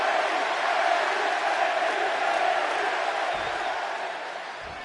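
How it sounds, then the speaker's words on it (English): A large wrestling arena crowd in Chicago in the WWE 2K video game roars steadily during a CM Punk versus Eddie Guerrero match, then fades slightly near the end. "And just listen to this crowd here in Chicago."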